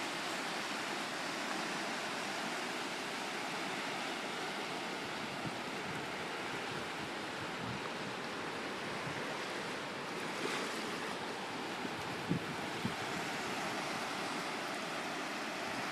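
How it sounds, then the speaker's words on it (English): Ocean surf at Isle of Palms beach makes a steady, broad wash of breaking waves, a continuous roar heard alone without talk. "Just hanging out on the beach."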